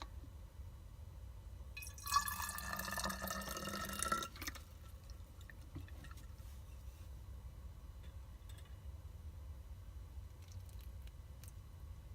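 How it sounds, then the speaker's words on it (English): Water pours into a beer bottle for a couple of seconds, a brief close gurgling splash that fades to quiet room tone. "I'm going to pour some water into this beer bottle and get the last of that beer"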